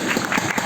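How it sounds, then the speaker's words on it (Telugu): Audience at a science drama on the global water crisis applauds in a dense, steady burst of clapping throughout the short moment. "చప్పట్లు."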